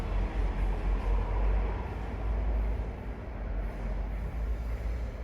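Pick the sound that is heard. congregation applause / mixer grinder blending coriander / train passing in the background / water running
train passing in the background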